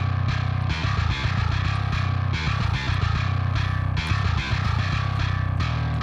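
Heavy distorted djent bass from a bass VST, played dry without the low-end boost, chugging in tight palm-muted bursts with brief gaps, loud and close with no voices.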